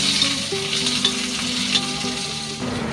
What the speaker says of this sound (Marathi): तर आता थोडं तेल टाकून मम्मी आता कांदा भाजून घेते